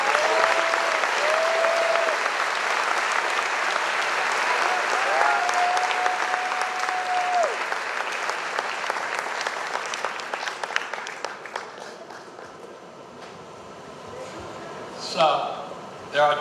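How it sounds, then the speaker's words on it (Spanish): A conference audience claps for a team brought onstage, a dense, sustained ovation of many hands that gradually thins and fades out, with a voice speaking over it early on and some brief scattered sounds at the end. "Un gran aplauso para ellos."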